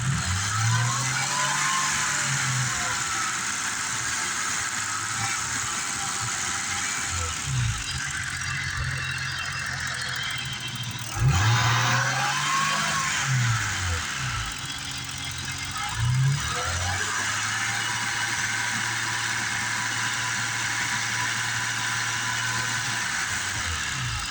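A 1988 BMW 535i E28 engine held at around 2,000 RPM, a steady mid-pitched hum with brief rises and dips in revs, heard close.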